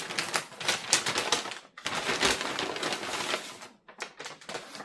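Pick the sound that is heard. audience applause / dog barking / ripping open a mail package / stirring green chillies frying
ripping open a mail package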